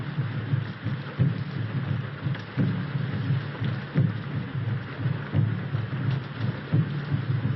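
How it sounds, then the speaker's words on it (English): Steady, heavy rain falling with soft dull thuds and distant thunder-like rumbles underneath, even and constant throughout, with no voices. "This rain and those drums."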